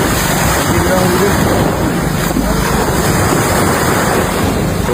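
Heavy ocean surf churns under typhoon winds at sea near a small fishing boat, a continuous loud roar of breaking water with wind buffeting the microphone throughout.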